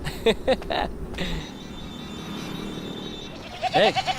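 Several goats bleat in short wavering calls nearby, a few at the start and a louder burst near the end, with a hum in between.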